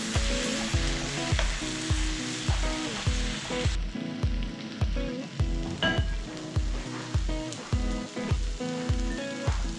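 Cuttlefish sizzle and fry in a pan while being stirred, with loud continuous crackling and regular scraping strokes of the stirring utensil, close up with no talking.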